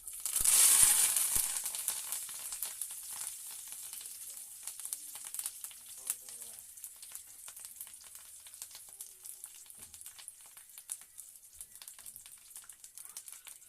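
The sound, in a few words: mustard seeds and curry leaves spluttering in hot oil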